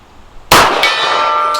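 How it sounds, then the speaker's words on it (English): A bullet from a Colt .45 strikes a steel gong target plate with one sharp, loud metallic clang that rings on with a sustained tone, plus a faint second tap near the end. "I like the sound of the gong."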